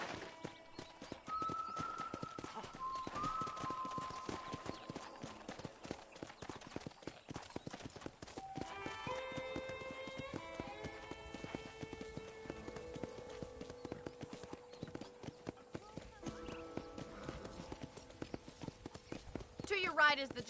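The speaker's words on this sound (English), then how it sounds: "I picked out a fine horse for you." Horse hooves clip-clop in a steady walking rhythm during a ride around a ranch in Red Dead Redemption, running close and continuous under game music and talking voices, with a brief louder burst at the end.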